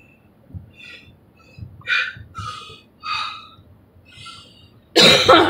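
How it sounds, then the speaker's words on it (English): Several short coughs and throat-clearing sounds spaced over a few seconds, close by, ending in a louder, harsher burst of coughing. "Make myself cough doing that."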